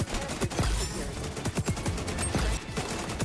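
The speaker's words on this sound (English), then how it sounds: "We'll end things off with the good old AK." Rapid AK rifle fire in the shooter game XDefiant, loud repeated bursts of shots close up over continuous game noise, with a voice talking at times.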